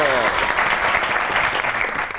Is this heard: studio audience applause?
yes